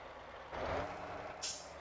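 A truck braking hard in the Motortown video game, giving a short hissing air-brake release followed by a brief sharp burst of air, moderately loud with no talking.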